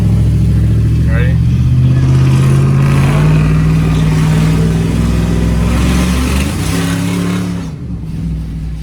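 A truck engine with a leaking exhaust drones loudly and continuously while driving, a steady low rumble that rises and shifts in pitch, with a voice talking faintly over it.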